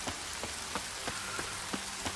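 Rain falls steadily in The Witcher 3: The Wild Hunt, a soft constant patter broken by regular, slightly louder drip taps about every third of a second.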